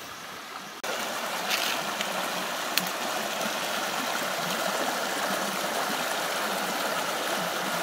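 Forest stream flowing steadily over rocks in woodland, a continuous broadband rush of water close by, quieter for the first second then full and even, with a faint tap partway through.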